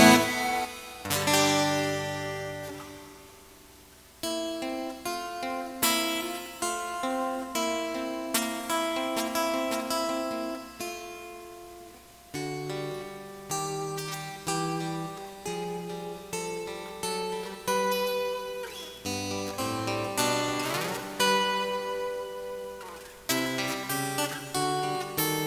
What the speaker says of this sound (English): And you've got some reverb.